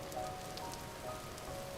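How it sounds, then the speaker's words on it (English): A quiet, steady patter of rain falls on a forest canopy in the video game Vintage Story, a soft, even wash of drops with no talking. "So you get like the rain on the forest canopy sound."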